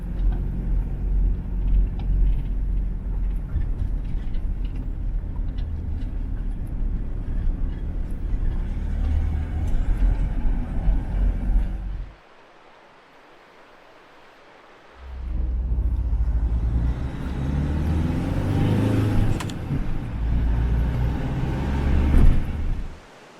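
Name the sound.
car driving through the mountains in Greece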